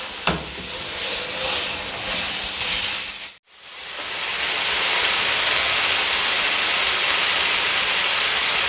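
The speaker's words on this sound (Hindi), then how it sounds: "ये चिकन का कीमा है। इसको बस हल्का सा हमने फ्राई करना है।" Chicken keema fries in a pan with a dense, steady sizzle that breaks off briefly and then comes back louder and hissier. No voices are heard.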